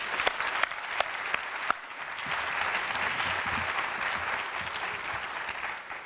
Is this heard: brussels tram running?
no